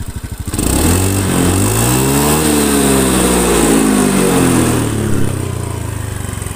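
A Honda Beat FI scooter engine with a rough-running motor starts and revs, its pitch rising then settling into a loud, steady drone close by.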